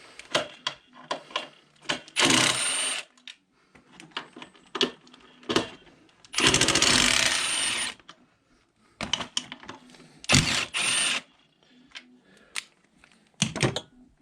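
Ratchet undoing 10mm bolts on a Mini Cooper R50 intake manifold, rapid clicking bursts and short metallic taps in irregular runs, close and alone.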